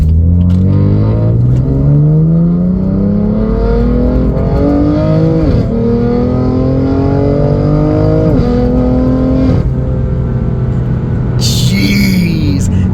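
A BMW M3 fitted with a Valvetronic exhaust revs hard up close, its loud raspy engine note climbing in repeated rising sweeps and dropping back between pulls.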